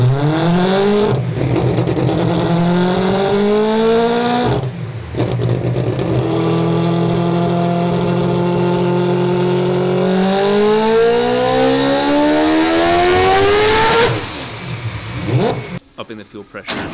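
A 1000hp billet four-rotor Mazda RX-7 engine with AWD revs hard through repeated pulls, a loud rising whine sweeping upward in long climbs, then settling and cutting out near the end.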